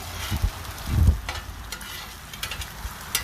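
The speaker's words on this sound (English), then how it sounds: "But yeah, as you can tell, it's sizzling perfect." Low crackling sizzle of bacon frying in a pan, with a few louder bursts and scraping stirs, close by and steady.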